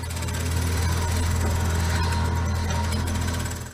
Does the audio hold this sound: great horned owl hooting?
no